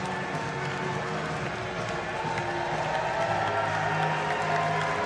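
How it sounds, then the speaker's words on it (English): A large arena crowd cheers and applauds continuously at the victory ceremony for the women's 50-meter backstroke S3 at the World Para Swimming Championships in London, a steady roar with a commentator talking over it. "Big cheer in the crowd for Ellie Chalice, and indeed for the other two as well."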